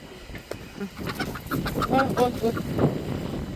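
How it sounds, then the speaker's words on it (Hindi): Several chickens cluck in a busy flock on a poultry farm, short overlapping calls close by, with faint human voices mixed into the background. "इतना सारा मुर्गी है, देखिए"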